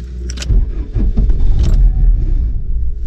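A Volkswagen Corrado G60 engine that has stalled is cranked and fires into a loud, uneven rumbling idle, close up, with a few metallic clinks like keys near the start.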